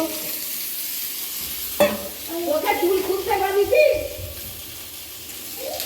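Potato pieces dropped into hot oil and stirred in a pan, a sudden sizzle burst followed by clattering stirs and crackling frying, with speech heard over the cooking.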